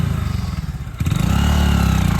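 A motorcycle engine idles in neutral, then revs up into a louder, steady throaty drone, close by and without talk.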